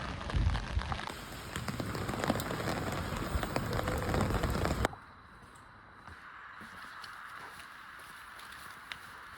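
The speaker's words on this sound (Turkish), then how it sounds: "Yani daha normal bir yağmur bu baktığın zaman." Rain falls steadily on a hard surface, loud and dense for the first half. It then drops abruptly to a softer, more distant patter.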